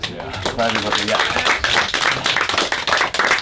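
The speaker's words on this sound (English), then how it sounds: "a little round of applause" A small group of sailing expedition crew clap in a short round of applause, close and fairly dense, with voices talking over and after it.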